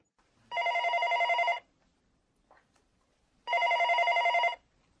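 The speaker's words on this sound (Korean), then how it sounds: "밤 10시경 정무비서관 박철원의 집에 전화벨이 울렸다" A telephone bell rings twice at home at night, each ring a roughly one-second electric trill, separated by a quiet pause of about two seconds, clear and alone.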